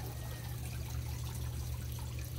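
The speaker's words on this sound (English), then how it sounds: "So I'm gonna drain the water out the top here." Water draining out the top of an aquarium filter during cleaning, a steady low trickle and gurgle under a constant hum, with no speech.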